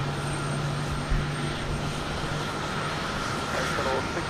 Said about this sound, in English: Almost looks like it's landing in the middle of a freeway